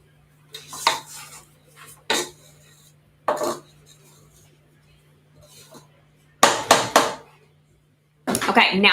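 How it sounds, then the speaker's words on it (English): A spatula scrapes down a mixing bowl of sugar cookie dough in a few separate bursts of clattering, scraping strokes, close and fairly loud, with quiet pauses between them and a low steady hum underneath. "I'm going to scrape the bowl down again"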